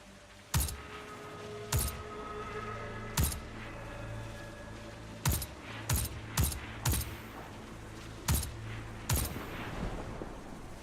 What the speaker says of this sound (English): I hear explosions.